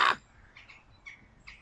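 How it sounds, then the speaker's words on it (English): Crows at a wildlife park giving a few short caws, faint and distant after a loud opening sound, spaced out over a quiet outdoor background. "The pinchy crows are on the flesh too, though."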